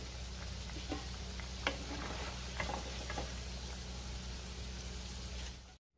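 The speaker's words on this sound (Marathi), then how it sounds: "आता आपली भजी व्यवस्थित तळून झालेली आहे, मी काढून घेते।" Steady sizzle of fritters frying in hot oil, with a few faint clicks and taps over the bubbling before it cuts off abruptly.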